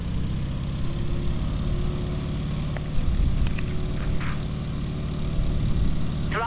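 A propeller plane's engine in Microsoft Flight runs after starting, a steady, close, low rumbling drone that swells slightly partway through, with a few faint clicks over it and no talk.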